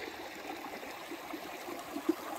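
Willow Creek flows past on a hiking trail near a log crossing, its water giving a steady, soft rushing murmur with faint gurgles and no talk over it.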